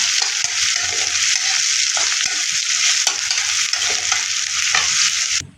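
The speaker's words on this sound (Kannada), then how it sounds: "ಹಾಗೆ ಸಣ್ಣದಾಗಿ ಕಟ್ ಮಾಡಿರುವಂಥ ಈರುಳ್ಳಿ ಹಾಕೊಳ್ಳೋಣ. ಚೆನ್ನಾಗಿ ಫ್ರೈ ಮಾಡ್ಕೊಳ್ಳೋಣ." Finely chopped onion fries in a pan for sukha methi, producing a loud, dense, continuous sizzle close by, with scattered stirring knocks, before cutting off abruptly at the end.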